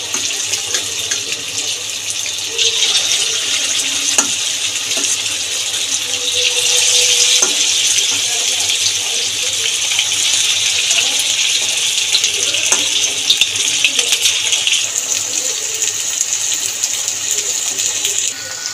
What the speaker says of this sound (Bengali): ম্যারিনেট করা যে মাংসটা সেটা ছেড়ে দেবো তেলের মধ্যে একটা একটা করে